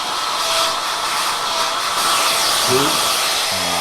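A hair dryer runs in a barbershop, giving a steady, loud whooshing hiss throughout, with a faint voice briefly surfacing near the end.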